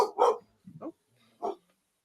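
Local dogs bark outdoors in three short, sharp bursts separated by brief silences, moderately close and loud, with no talk over them.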